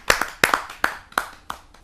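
A few scattered hand claps, about seven sharp separate strikes, from a small audience at a Hindi kavi sammelan poetry gathering welcoming a poet to the stage.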